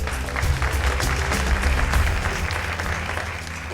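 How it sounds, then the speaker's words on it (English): Audience at the 2018 Anzisha Prize Awards Gala claps in a sustained, dense round of applause that holds steady, then eases slightly toward the end. "Big round of applause."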